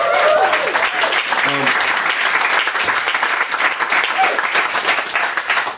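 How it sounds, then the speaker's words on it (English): An audience gives loud, sustained applause after a poetry performance, dense clapping running steadily throughout with a few cheers and whoops mixed in near the start. "Cheers for your rapturous applause."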